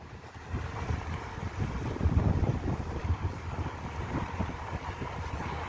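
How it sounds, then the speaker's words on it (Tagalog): Strong wind buffets the microphone in continuous low rumbling gusts, with faint water sounds beneath and no voices. "Medyo malalakas ang hangin guys."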